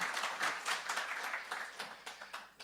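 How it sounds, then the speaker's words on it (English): Light, scattered applause from a small audience at a biogas and biomethane summit: distinct individual claps in an uneven rhythm, fairly faint and thinning out over a few seconds. "Applause, of course."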